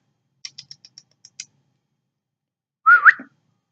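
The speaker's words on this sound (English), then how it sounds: "Can you hear the magpie in the background?" A string of tiny chirps, then a louder warbling magpie call, clear and close against silence.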